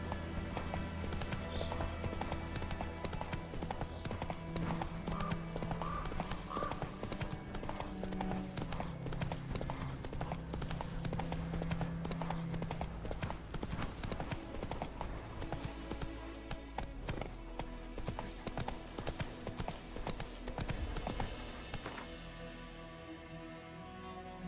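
Roach the horse gallops in The Witcher 3, hooves pounding in a fast, steady clip-clop rhythm close by, with creaking tack and ambient game music beneath before the hoofbeats fade near the end.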